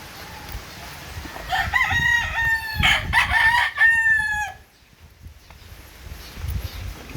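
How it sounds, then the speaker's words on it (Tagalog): A rooster crows loudly several times in a row with hens clucking around it at a game farm in Agusan del Sur, then the calls stop and faint farmyard noise remains. "ito yung mga manok nila dito"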